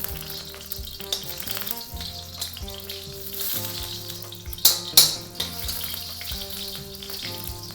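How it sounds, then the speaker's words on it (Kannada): Oil sizzles steadily as pieces fry in hot groundnut oil for an Udupi-style bisibele bath. Background music runs underneath, and two sharp clinks of utensil contact come near the middle. "ಹಿಂಗೊಂಚೂರು ಫ್ರೈ ಮಾಡ್ಕೊಂಬಿಡೋಣ."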